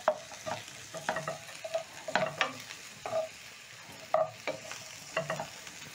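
Ribeye beef, onions and red and green capsicum are stir-fried in a pan, with a quiet sizzle broken by repeated rhythmic scraping and stirring strokes.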